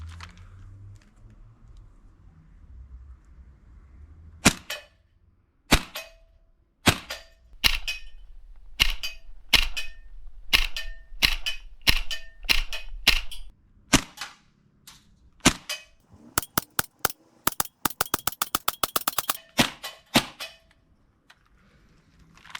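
A Tokyo Marui MP7 gas blowback airsoft submachine gun firing outdoors, first as spaced single sharp cracks, then a fast rapid-fire burst, loud and close.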